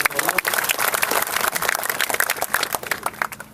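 Audience applause at a business seminar, a dense wash of many hands clapping steadily for the full stretch, fairly loud and close, with crowd noise mixed in.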